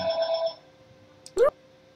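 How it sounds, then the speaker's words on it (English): A telephone ringtone trills briefly and loudly during a puzzle game session, then cuts off before a short vocal sound. "Shut up, phone."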